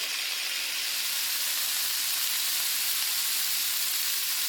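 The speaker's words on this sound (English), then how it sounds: "Then we'll sit this and let it sear on the one side." Meat searing untouched in a pan for chili colorado, a steady even sizzle and hiss, close and moderately loud with no stirring.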